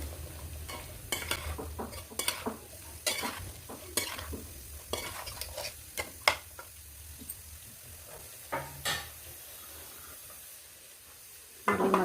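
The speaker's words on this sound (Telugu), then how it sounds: "ఒక రెండు స్పూన్లు కారం వేసాను కారం కూడా అంత ముక్కలు పట్టేలా కలుపుకున్నాను" Spoon stirring sambar vegetables coated with two spoons of chili powder in a pan, with repeated scraping strokes and a soft sizzle underneath, alone without talk.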